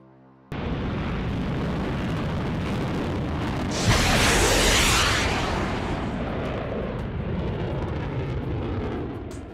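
An AIM-120 AMRAAM missile launches from a fighter aircraft in a video game: a sudden loud roar kicks in and holds steady, swelling into a bright whooshing surge as the missile leaves, then a sustained rumbling drone.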